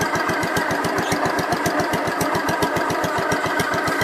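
A Gravely 566 tractor engine runs in low range with a fast, even chugging beat. It sounds close and steady throughout, with no voices.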